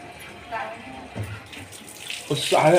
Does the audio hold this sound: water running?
yes